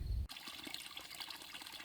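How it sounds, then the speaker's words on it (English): Spring water gushing hard out of a 2¼ inch pipe at an outdoor spring in Shenandoah National Park, a steady, close, broadband rush of pouring water that starts abruptly after a brief low rumble and runs on without a pause. "Look at the way it's gushing out of that 2¼ inch pipe."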